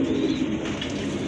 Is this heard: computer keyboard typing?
no